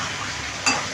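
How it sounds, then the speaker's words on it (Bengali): Carrots frying in a pan give a steady, close sizzle across the whole second, broken near the end by a short metallic clink of a utensil. "গাজরটা এবার ভাজা বসাই"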